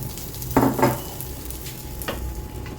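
Potato and sabudana appe batter hits a hot appe pan with a couple of quick sizzling bursts, then a softer steady sizzle with a third burst near the end; no voices.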